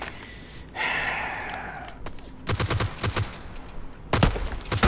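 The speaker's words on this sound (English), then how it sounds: "I'm shooting into the snow." Rapid bursts of gunfire in PUBG, shots fired into snow, coming in two quick rattling volleys with a breathy sound before them.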